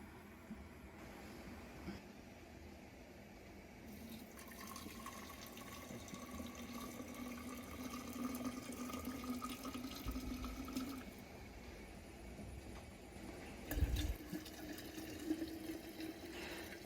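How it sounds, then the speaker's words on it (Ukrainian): Cherry compote scooped with a cup and poured carefully into a prepared jar: a soft, continuous liquid pour and trickle, fairly quiet and close, with a brief louder splash or clunk near the end. "тепер вишневий компот набираємо горнятком і акуратно заливаємо у підготовлений слоїк"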